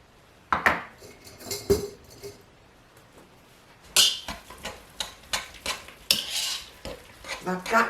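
A wire whisk works through garlic mashed potatoes in a metal pot, giving scraping, clanking strokes against the pot's sides in irregular bursts, first sparse and then a quicker run of knocks and scrapes, close up.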